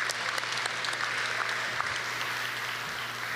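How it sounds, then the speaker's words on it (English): Dense, sustained applause from a large audience at the Seattle Colleges convocation in 2015, honouring volunteers. The clapping is steady and even throughout, with no pauses and no voices on top. "So let's give a round of applause to volunteers for making this happen"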